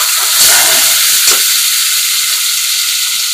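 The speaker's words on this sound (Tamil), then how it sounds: "நம்ம இப்போ நம்ம எடுத்து வச்சுருக்கோம் மூளையை போட போகிறோம்." Goat brain frying in a pan on a low flame, a loud steady sizzle and hiss with brief bursts of stronger crackle near the start, no talking.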